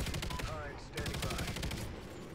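Rapid, continuous bursts of light machine gun fire in the video game Ghosts, loud and close, with a brief lull before the shooting resumes.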